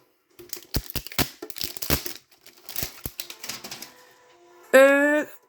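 A Pokémon stacking tin is opened up close: a quick run of sharp clicks, crinkles and crunching handling noises, ending in a brief voiced sound.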